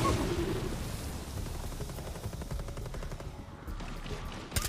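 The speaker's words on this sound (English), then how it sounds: "he's shooting at me" Rapid machine-gun fire in a Tom Clancy tactical shooter game, a steady rattling stream of shots at moderate distance, continuous for several seconds and ending with a sharper close crack.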